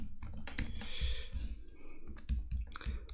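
Computer mouse clicking a continue button on a desktop, a sharp close click near the start followed by quieter scattered clicks and low handling noise, no speech.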